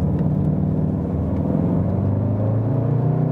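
A VW Golf R facelift, 310 hp with AWD, pulls hard in second gear out of a tight racetrack corner, its steady loud engine drone rising under a low road rumble with no talk.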